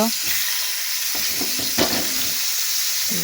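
Koi fish sizzling as they drop into hot oil, a steady bright frying hiss throughout with a louder crackling burst partway through.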